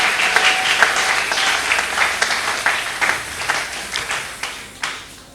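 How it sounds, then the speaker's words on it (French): A church congregation applauds, with distinct sharp claps standing out from the crowd's clapping. The clapping is fairly close and lively, then thins out over about five seconds. "Vous pouvez l'acclamer? Il mérite nos acclamations."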